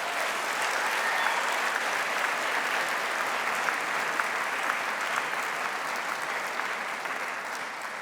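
An audience at a university graduation ceremony applauds continuously, a dense, even wash of many hands clapping at steady strength throughout, with no voices standing out.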